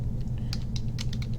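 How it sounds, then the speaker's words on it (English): Quick, light clicks of typing on a computer keyboard, a short irregular patter of keystrokes over a steady low hum in a room. "you go into here and you type in Alexander"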